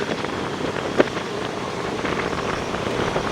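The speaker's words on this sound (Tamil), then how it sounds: "அவ்வளோத்துக்கு மழை" Heavy rain and strong wind lash Jaffna during Cyclone Ditwah, a steady broadband roar of downpour and gusts that holds at one level throughout, with a brief thump near the start and no voices.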